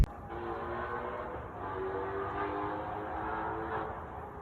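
A Ford GT350 with catless midpipes accelerates onto a freeway, its engine building into a loud, sustained raspy drone that holds for several seconds.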